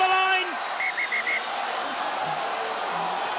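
A referee's whistle at a women's Six Nations rugby match gives a few short, sharp blasts in quick succession over a constant roar of crowd noise.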